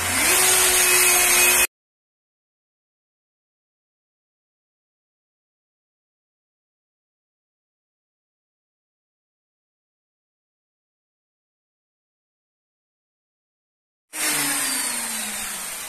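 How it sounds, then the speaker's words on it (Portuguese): Whining hum of an electric polisher running an Abralon 3000 pad over a marble-effect surface, loud and close for a moment, then cut to long silence before the motor drone returns near the end. "Vou fazer aqui com a politriz também."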